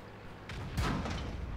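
In World of Tanks, a tank is struck by a shot: one heavy, close boom with a thudding impact rising over a steady rumbling engine and battle background.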